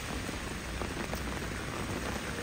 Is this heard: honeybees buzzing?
no